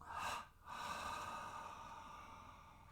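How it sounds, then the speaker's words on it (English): Deep yoga breathing at bedtime: a quick audible inhale, a short pause, then a long, slow, airy exhale that fades gradually, close and soft, with no talking. "Inhale, short and long. Exhale."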